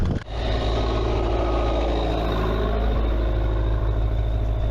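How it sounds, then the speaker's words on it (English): A tractor motor repurposed as a water pump runs beside fields near Ferrara, Italy, giving a steady, close, low droning engine rumble with an even idle throb throughout. "they use the motor from tractor as a water pump. It works apparently."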